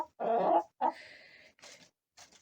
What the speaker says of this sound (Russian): И курица сюда попала одна.